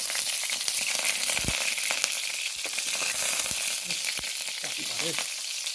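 Onions fry in a little mustard oil, giving a steady close hiss and crackle, while a utensil stirs with soft scrapes and taps against the pan, and nobody talks.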